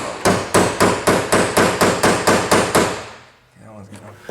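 A hammer strikes a punch to drive out rivets on a Ram truck grille, about ten loud, evenly spaced metallic blows in quick succession, followed by a short quieter pause with faint clinking.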